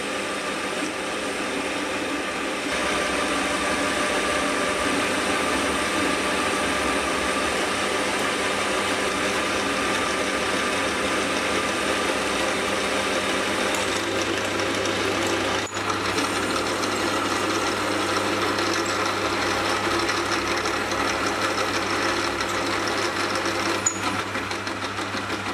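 A lathe drills a hole all the way through a die holder workpiece, giving a steady, continuous machining hum and whir that runs unbroken for the whole stretch at a fairly loud, even level.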